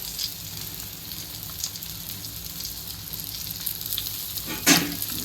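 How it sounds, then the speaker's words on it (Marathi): Fish coated in masala frying in hot oil in a village home kitchen, a steady crackling sizzle throughout with a brief louder spatter near the end. "असं तेल वरून सोडायचं आता एक एक अशी पलटी मारायची"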